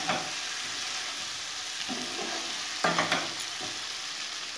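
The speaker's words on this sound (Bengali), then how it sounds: "টমেটাটা আর আলুটা একটু কষিয়ে নিলাম।" Tomato and boiled potato fry and sizzle in a pan for a Bengali prawn and cabbage ghonto. A steady broadband crackle runs throughout, with a few louder scraping stirs around the middle. No one speaks.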